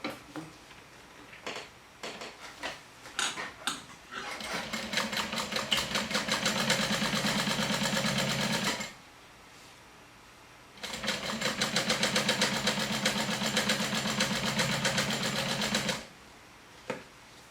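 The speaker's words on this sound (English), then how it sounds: "we're going to flip it and stitch it with a 3/8 of an inch seam allowance." A sewing machine stitching a 3/8 inch seam, running in two steady rapid bursts of mechanical stitching separated by a short pause, with a few clicks of handling before and after.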